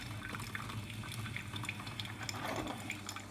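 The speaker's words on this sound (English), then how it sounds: "Obviously in here now, this is where your coffee is being brewed." A Beko coffee maker brews coffee with a soft, steady trickle and drip of hot liquid and faint gurgling, quiet and close, without speech.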